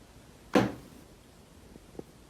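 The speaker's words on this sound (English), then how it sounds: "Those are the tapping noises I was talking about." Strange tapping heard in a creepy setting: one sharp, fairly loud knock, then a fainter second tap, separated by quiet room noise.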